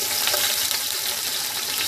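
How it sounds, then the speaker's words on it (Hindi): Chopped onions hitting hot ghee in a pan for a Charsadda-style thick rice dish, a steady dense sizzle and crackle, close and even throughout with no talking. "घी गर्म हो चुका है तो प्याज ऐड कर देंगे।"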